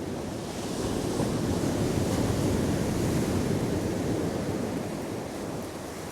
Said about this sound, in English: Big old breakers coming in